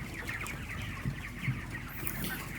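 Broiler chickens about 25 days old in an open raised coop, soft continuous clucking and low murmuring from the flock with a few louder calls, close and steady, no voices.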